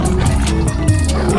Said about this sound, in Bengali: ওটাই তো নরখাদক বাঘের গর্জন